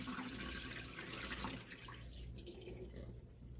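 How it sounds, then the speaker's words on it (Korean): Tap water runs into a bowl in a home kitchen while soaked bean leaves are being rinsed, a soft continuous splashing stream heard close up and fairly quiet. "그리고 물을 좀 받아줍니다."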